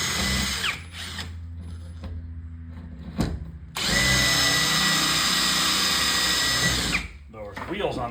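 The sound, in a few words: power drill drilling wood blocks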